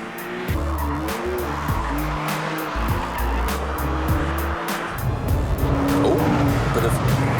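A Porsche sports car with lowered suspension pushes through a corner on a greasy road, engine revving and shifting gears with tire squeal and skidding, loud and close for several seconds under continuous road noise.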